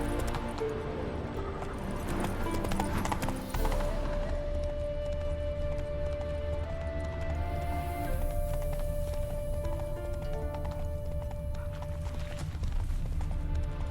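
Horse hooves in The Witcher 3 clip-clop at a steady trotting rhythm over a layered game soundtrack with sustained musical tones, no voices.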